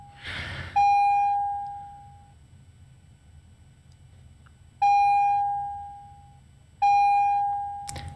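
Three loud electronic beeps sound at uneven intervals, each a sharp pure tone that fades slowly, with a low background hum between them.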